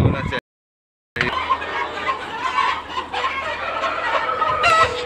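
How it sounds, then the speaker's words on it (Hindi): Laying hens cluck continuously in a busy breeder farm shed, a dense chorus with steady machinery hum underneath after a brief silent gap at the start. "तो ये ब्रीडर फार्म है, मुर्गी अंडा देने वाली है"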